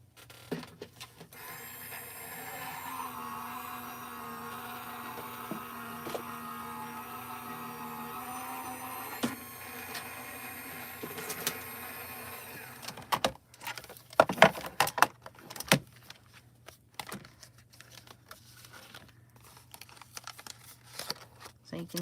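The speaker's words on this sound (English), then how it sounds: "So now we'll run this through Gemini Junior." A Gemini Junior die cutting and embossing machine runs with a steady motorized hum and whir for about twelve seconds, then stops, followed by handling clicks, rustles and knocks nearby.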